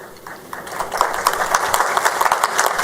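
Applause for a minister's speech, a sustained wash of many hands clapping that builds slightly and carries on without break, fairly close and loud.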